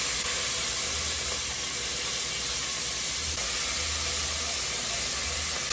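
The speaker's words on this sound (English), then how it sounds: "We're going to allow our veggies to saute for about 5 minutes until slightly softened." Diced onions, celery and carrots sauté in a hot pan, making a continuous, even hiss of sizzling with no break, fairly close.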